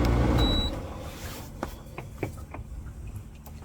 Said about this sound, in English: I just realized I had the dehumidifier running this whole clip.